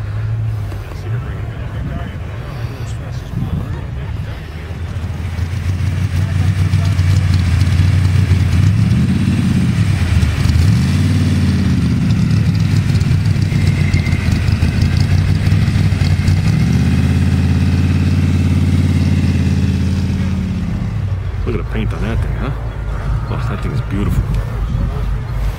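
Drag racing cars, including a late-1960s Chevelle convertible, roll slowly in at a Connecticut Dragway reunion, their engines idling with a deep, loud, continuous rumble and occasional swelling blips of throttle as they pass close by.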